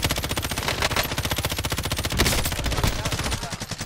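Rapid automatic gunfire from a video game, a dense, loud, evenly pulsing burst of shots that runs nearly unbroken for a few seconds, with a brief swell in the middle.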